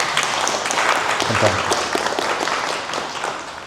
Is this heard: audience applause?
yes